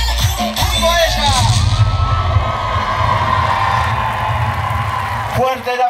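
Crowd at the Aeroshock 2021 dance show cheers, whoops and shouts loudly and steadily for about six seconds, with a voice carrying over the din before the noise cuts off abruptly.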